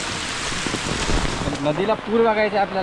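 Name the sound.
heavy monsoon rain in Konkan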